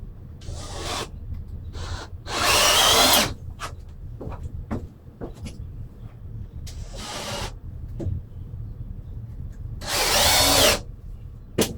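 Power drill driving screws into floor framing inside a Chevy BrightDrop van, with three loud high whirring bursts separated by quieter knocks and handling clatter, close by.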